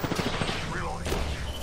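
Gunfire in the Apex Legends video game comes as a quick burst of close, rapid shots during a firefight, with tense game sound filling the background.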